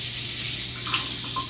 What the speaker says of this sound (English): I'm going to wash off my knife too.